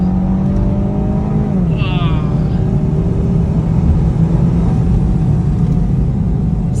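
A Range Rover's engine runs loud and close, a dense continuous rumble that rises in pitch then settles back, with interior road and exhaust drone and a voice speaking briefly over it.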